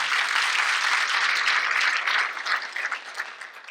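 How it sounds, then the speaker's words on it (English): A round of applause from the audience at a school district's State of the District event, a dense burst of clapping that holds strong and then thins and fades toward the end. "So give them a round of applause, please."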